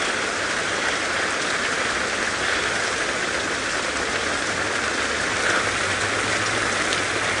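Pouring rain hisses steadily and loudly across the Masai Mara grassland during a safari drive, a dense unbroken wash of drops with no voices.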